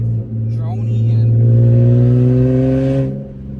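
Exhaust drone from a Lexus IS300 while driving, a loud, steady low hum with rising and falling engine tones, close and constant throughout, with a brief voice over it.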